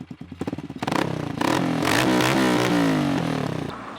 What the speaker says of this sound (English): it has a Kropovich exhaust system, which sounds amazing